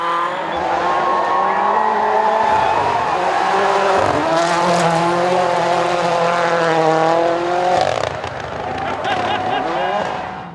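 WRC rally car racing flat out along a Baie des Chaleurs rally stage, its engine loud and close, revs rising and falling through gear changes with brief tyre scrub, under steady commentary talk.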